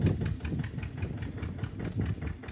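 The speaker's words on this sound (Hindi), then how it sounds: "अभी खिंचाई शुरू होने वाली है, और देखते हैं गिरता है या नहीं ये ट्रैक्टर एंड ये पेड़" A tractor engine labouring to pull out a tree, a steady rhythmic mid-pitched chugging with regular pulses, close and fairly loud, no voices.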